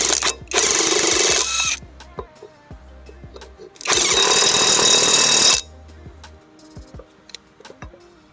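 A SEESII WH700 650 Nm cordless impact wrench driving a fastener back on: two loud bursts of hammering whir, each about one to two seconds long, with clicks and a low hum in between.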